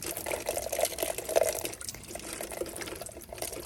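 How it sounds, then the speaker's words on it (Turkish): Orchid roots are rinsed through garlic water, giving a steady, gentle splashing and trickling of liquid close by, with no voices. "Hafif suda köklerini bu şekilde geçiriyorum"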